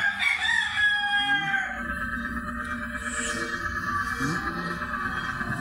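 Neighbor's chickens crowing and clucking outdoors, a rooster's drawn-out crow ringing out near the start with more crowing and scattered clucks following under a steady background hum.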